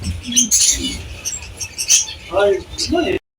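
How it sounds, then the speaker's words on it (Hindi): Small birds chirping and twittering in short bursts at a bird market in Madina, with black pigeons nearby, background chatter and rustling close by. "यहाँ पर माशाल्लाह बहुत खूबसूरत ये छोटी छोटी सी चिड़ियाँ"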